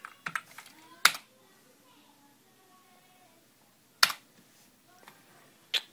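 A few sharp keyboard taps and clicks while typing on a computer during a Windows XP repair, sparse and spaced out, with quiet talk faintly underneath.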